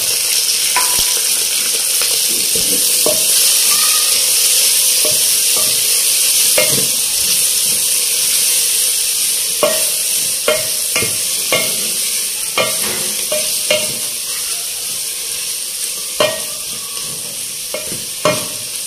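Onions frying in a pan with tomato and chili give off a steady, dense sizzle. Sharp clicks and scrapes of stirring come through, growing more frequent toward the end.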